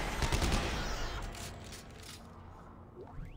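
Rockets and rapid weapon fire from enemies in the video game Dead Space 3, a dense burst of explosive shots up front that fades into a noisy rumble, with a sweeping whoosh near the end.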